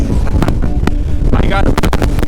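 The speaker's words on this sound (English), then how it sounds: "Damn, so windy." Strong mountain wind in Glacier National Park buffets the microphone in loud, steady rumbling gusts, with brief bursts of voices breaking through now and then.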